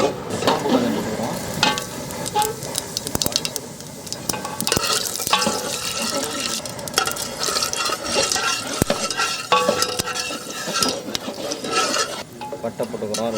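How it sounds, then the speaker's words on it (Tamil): Fennel seeds crackle and sizzle steadily in hot coconut oil in a pan for a crab omelette, with loud continuous frying hiss and scattered sharp pops and utensil scrapes throughout. "சோம்பு கொஞ்சம் போட்டுக்கிறோம்."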